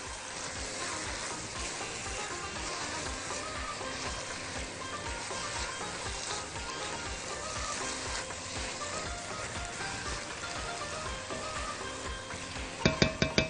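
Garlic and meat sautéing in a pot while cooking vegetable turli with meat, with a steady sizzle throughout and a few sharp clanks of stirring near the end.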